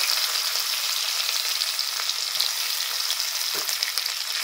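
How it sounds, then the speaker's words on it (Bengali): Crushed garlic sizzles in hot oil along with black cumin seeds, giving a continuous bright hiss with a few soft pops and clicks, close and alone. "রসুনটা একটুখানি ভাজা ভাজা করে নেব"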